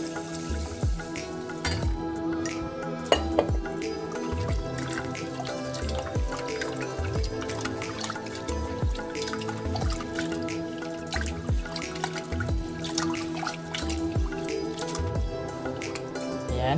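Glutinous rice being rinsed a second time in water by hand, with continuous close splashing, sloshing and dripping throughout, no voices.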